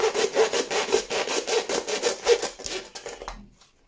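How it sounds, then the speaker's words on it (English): Shears cut through muntjac venison ribs in a run of quick rhythmic crunching, rasping strokes, close and fairly loud, slowing and fading out at the end with no talking. "So you can use poultry shears or some tin snips."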